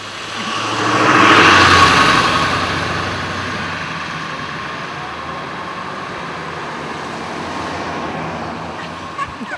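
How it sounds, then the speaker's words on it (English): Petrol cars passing on a residential street, one swelling loudly past up close and fading into a steady roadway hum as others follow from both directions. "Here comes one of those fossil cars. There's another one from both directions."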